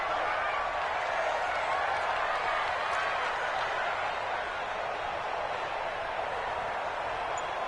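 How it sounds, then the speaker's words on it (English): A stadium crowd in a PS4 football video game, a dense, steady wash of cheering and roaring that holds constant throughout, with no distinct voices on top. "the crowd getting into it as we come up on a big 3rd down"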